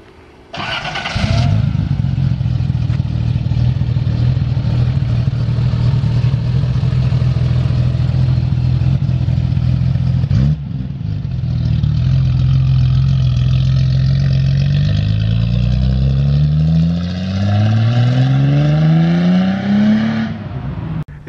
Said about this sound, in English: So super cool, Datsun. It's gonna start up.